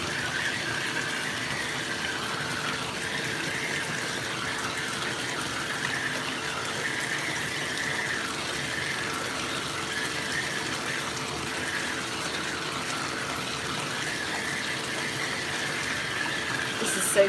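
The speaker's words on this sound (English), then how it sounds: "I'm gonna put more water in the bathtub and then I'll do it." Water runs steadily into a bathtub from the tap, a constant close gushing rush with no break.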